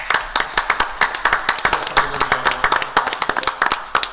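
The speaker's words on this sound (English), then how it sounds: "Let's give her a round of applause." Distinct, fairly close hand claps ring out at a school board meeting honoring a student of the month, coming in quick uneven bursts from a small group, each sharp and separate.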